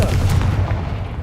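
Confringo blasting spell cast in Hogwarts Legacy, a dense, loud blast with low rumbling boom that decays over about a second, heard alone.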